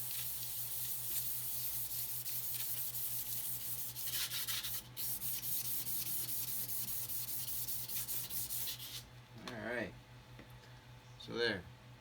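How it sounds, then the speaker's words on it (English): Sanding the sharp, burred edges of a Sovol flex plate for an Anycubic Mono X resin printer, a steady close scraping rub that runs continuously with a steady hum beneath, breaking off near the end. "this will also help sand down any burrs or anything on the edges"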